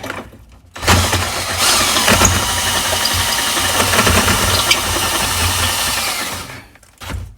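A power drill whirs loudly and steadily for about six seconds, then cuts off, followed by a brief short burst near the end.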